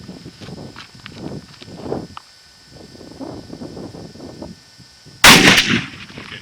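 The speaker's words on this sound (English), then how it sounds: "Right now we're going to shoot 100 grain in a 243 Winchester." A single loud crack from a .243 Winchester rifle firing a 100-grain load outdoors at a range, arriving near the end after several seconds of quiet footsteps and shuffling.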